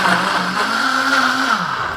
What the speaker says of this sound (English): Now this time we're just gonna start the blender with no vacuum or anything.